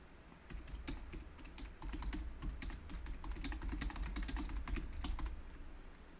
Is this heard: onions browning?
no